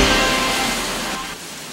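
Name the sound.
heavy rain pouring in Metro Manila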